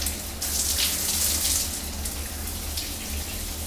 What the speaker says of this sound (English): we're getting hot water out of the shower.